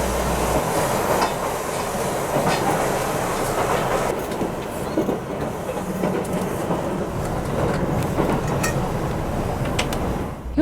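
Kintetsu Aoniyoshi limited express sightseeing train running on the Kintetsu Nara Line near Higashi-Hanazono, a steady close interior rumble with rhythmic wheel clatter on the rails, continuous throughout with no talk.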